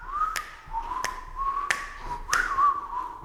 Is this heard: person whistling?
yes